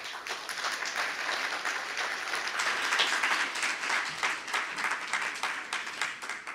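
A symposium audience applauds after a keynote lecture on sustainable local communities, a steady wash of many hands clapping at moderate distance, continuous and even without any speech over it.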